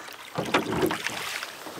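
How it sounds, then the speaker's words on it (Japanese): Oars splash and dip through water in a brief stroke or two, close by, with light wind noise around them. "ボートに乗って遊んでから終わりにしたいと思います"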